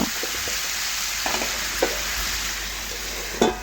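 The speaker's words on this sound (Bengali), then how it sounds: "ভালোভাবে একটু কষিয়ে নিচ্ছি সবজি মশলাটা দিয়ে" Mixed vegetables being sautéed with spices in a pan make a steady, soft sizzle, with a few brief stirring scrapes and clinks near the start, around 1.3–1.8 seconds, and a louder one near the end.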